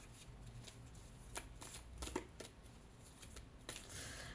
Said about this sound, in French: Je garde cette carte avant de faire la coupe. Remélangeons.